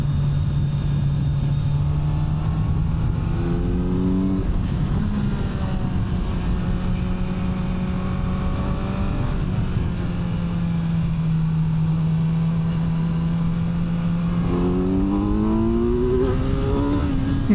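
Inline-four engine of a 2025 Kawasaki Z900 being ridden on a damp road, a loud steady drone that holds pitch, dips briefly and then climbs again as the bike accelerates, with wind rush throughout.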